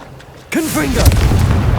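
Confringo fire-blast spell exploding in the video game Hogwarts Legacy, a sudden loud boom followed by a rumbling, crackling tail with a character's voice shouting the spell over the start.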